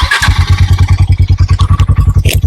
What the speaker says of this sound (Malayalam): നമുക്ക് സൈലൻസറിന്റെ സൗണ്ട് എങ്ങനെയുണ്ടോ കേട്ട് നോക്കാം.